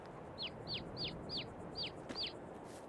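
Chicken sounds play in the farming game Landwirtschafts-Simulator 22, heard as six short, evenly spaced high chirps over a faint steady background.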